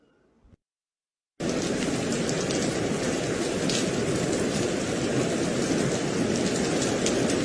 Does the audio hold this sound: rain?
yes